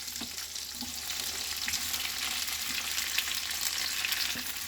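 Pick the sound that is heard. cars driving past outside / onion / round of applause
onion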